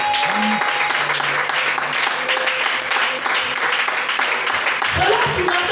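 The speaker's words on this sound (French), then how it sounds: "Oh, est-ce que tu peux acclamer le Seigneur?" A church congregation breaking into sustained applause for the Lord during a French-language sermon, a broad wash of clapping with a voice and some tonal sounds over it.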